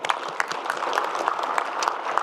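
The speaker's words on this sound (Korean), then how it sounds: "박수 한번 주세요." Brisk, continuous applause fills a Korean public forum with the president present, with individual claps standing out rhythmically over a dense wash of hands, close and fairly loud.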